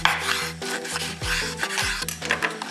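Repeated scraping and sawing strokes of a knife cutting through beef ribs, bone included, on a board, close and rhythmic with low rasping pulls.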